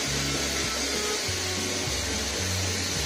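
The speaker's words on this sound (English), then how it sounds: "my hair was blown dry in 5 minutes" A Lansam hair dryer blows steadily and loudly up close while drying hair, its motor hum wavering slightly in pitch as the airflow shifts.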